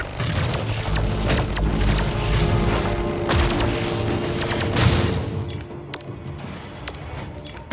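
A grenade bursts during a battle in Iron Marines, with booms and crackling fire piling up over dense, steady mechanical clatter and rumble, all loud and continuous with no clear break.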